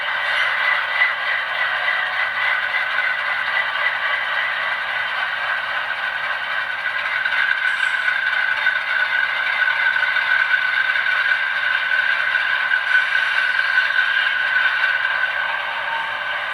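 ET44AC model locomotive with DCC sound running steadily, a continuous mechanical whir and rattling drone that holds an even level throughout, with no talking over it.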